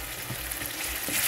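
Tomato sauce being stirred with a spoon in a hot pan, with a steady close sizzle and frying hiss and faint scraping strokes of the spoon throughout.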